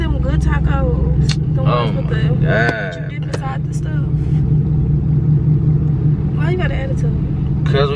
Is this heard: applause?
no